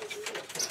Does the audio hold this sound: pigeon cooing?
yes